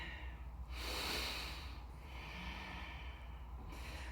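A person breathing deeply while holding a yoga pose, with two long audible breaths, a strong airy exhale early and another near the end, fairly close over a quiet background.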